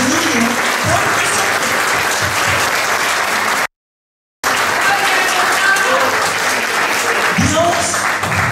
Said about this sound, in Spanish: Den un aplauso a Jesús por ese tremendo amor que tenía por nosotros.